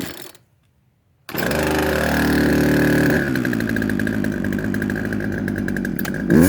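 A chainsaw catches and fires up after a short quiet pause, then runs loud and steady up close, its engine holding a sustained buzzing drone to the end.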